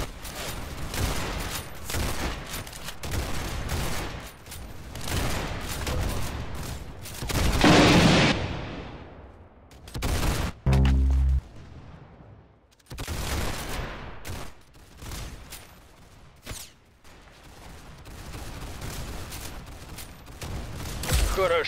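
Dense bursts of automatic gunfire in an arsenal shooter game, with rapid volleys separated by short pauses and a few heavier booms, loud throughout.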